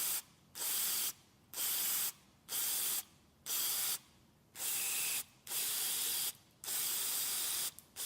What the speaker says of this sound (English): I'm also going to spray inside that inlet air temperature sensor assembly